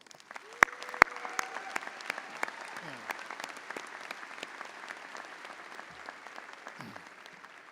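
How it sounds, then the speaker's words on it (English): A commencement crowd at UNT claps in a hearty, sustained round of applause, with sharp individual claps standing out over the dense mass and a few brief other sounds mixed in. "Please join me now in honoring all of these with a hearty round of applause"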